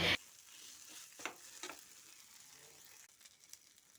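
Mashed potato and onion are stirred and sautéed in a pan: a quiet, soft sizzle runs beneath a few scraping spoon strokes, with louder bumps at the very start and end.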